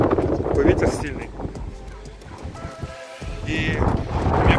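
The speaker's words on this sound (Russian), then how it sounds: "Такой ветер сильный." Strong wind buffets the microphone in low rumbling gusts, with a person talking over it.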